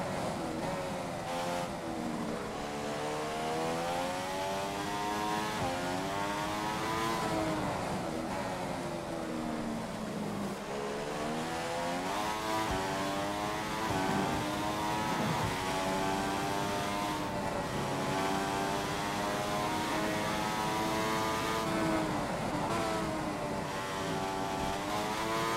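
A Mercedes Formula 1 car in the F1 2015 video game laps the Texas circuit, its engine whining in sharp rising sweeps that drop abruptly with each shift of the 8-speed gearbox, a continuous loud cycle of upshifts and downshifts.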